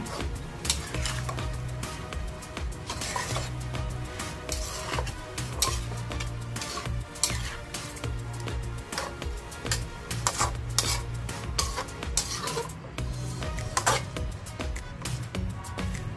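Chicken and pork adobo stirred in a pot with water just added, a steady run of scraping and clinking utensil sounds against the pot over a constant low bubbling hum, fairly close.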